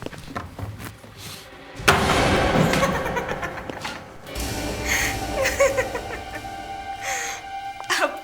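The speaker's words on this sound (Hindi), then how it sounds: "दरवाजा तोड़ दो।" A door being forced open in a TV crime drama raid, with heavy thumps and a crashing impact followed by clattering and commotion, shouts and gasps mixed through the scene.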